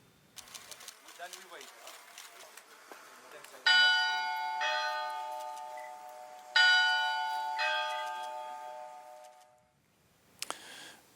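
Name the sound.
church bell ringing in Iraq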